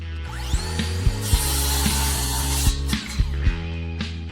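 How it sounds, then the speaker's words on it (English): A cordless battery-powered saw cuts with a steady motor whine broken by regular rhythmic clacks, loud and close with no voices over it. "See that? That cuts like a corded saw."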